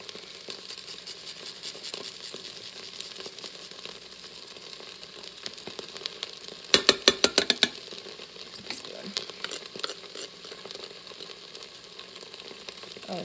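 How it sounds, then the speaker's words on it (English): Garlic stirred as it sizzles in an Instant Pot pressure cooker while Mongolian beef is made, a steady frying hiss with a brief burst of rapid scraping clicks from the spoon partway through. "So I'm just going to stir this around."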